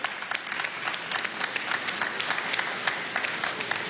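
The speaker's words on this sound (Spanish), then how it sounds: "Un aplauso a la Fuerza Armada Nacional Bolivariana." Sustained audience applause at an official event at the Casa de la Moneda in Venezuela, honoring the Bolivarian National Armed Forces, a dense steady clapping crowd that holds evenly throughout.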